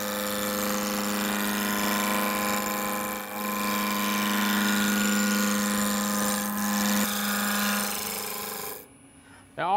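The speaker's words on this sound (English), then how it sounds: "I use a spindle roughing gouge to turn this blank into a cylinder." A wood lathe spins a wooden blank while a spindle roughing gouge shapes it into a cylinder, making a continuous rasping scrape over a steady motor hum that stops abruptly near the end.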